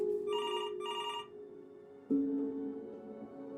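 Telephone ringing in a video game: two bright electronic trill bursts in quick succession, followed by a steady low hum and a sudden heavier tone shift, no voices.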